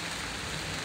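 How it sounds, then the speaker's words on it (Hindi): Hailstones come down in a dense, continuous hiss of small impacts, steady and fairly faint, with no voices. "ये देखिए ओले पड़ रहे हैं"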